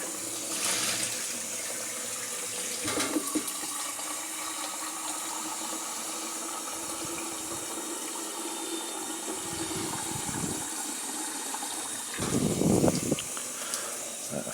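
Tap water running into a coffee pot in a hard water area, with a steady hiss of flow, a swirling rinse and louder splashing bursts as the pot fills.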